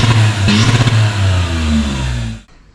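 An Audi A2 1.4 TDI diesel with a custom aluminium exhaust and no silencer revs hard and loud close by, its pitch rising and falling in quick blips before cutting off abruptly.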